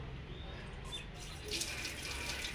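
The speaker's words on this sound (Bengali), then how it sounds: "বাসন ধোবো।" Steady rush of tap water running over dishes being washed in a sink, close and continuous with a slight swell toward the end, no talking.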